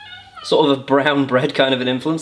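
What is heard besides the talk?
cat meowing as it comes in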